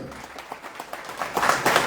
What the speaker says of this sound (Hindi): मैं चाहता हूं एक बार हमारी कंपनी, हमारे प्लेटफॉर्म के लिए जोरदार तालियां हो जाएं